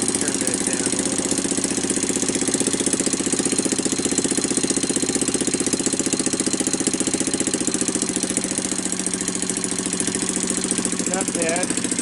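Kawasaki Bayou ATV engine with a Mikuni carburetor idling steadily after carburetor repair, a close, loud, continuous chugging rumble with fast regular firing pulses throughout, and a brief faint voice near the end.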